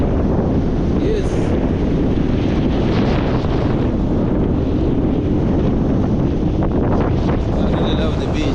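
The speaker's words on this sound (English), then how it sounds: "I really love the beach because it has a cool breeze." Strong wind sweeps across Diani beach, a loud, constant roar of gusts buffeting the microphone, with surf likely mixed into the broadband rush and a voice faintly under it.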